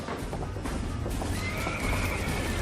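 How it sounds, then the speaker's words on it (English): Horses whinny and neigh in a barn during a fire, their calls rising over a busy, noisy background with hooves clip-clopping, loud and close throughout. "We need to get the horses out of the barn!"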